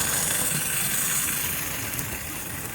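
A Hornby Percy 0-4-0 model train motor runs with a steady, continuous whirring hum that holds at an even level throughout, with no talking.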